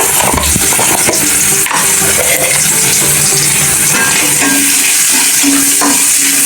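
Chopped onion and two bay leaves fry in a pan for a Bengali fish curry, giving a loud, constant sizzle with occasional stirring scrapes and clinks, close up.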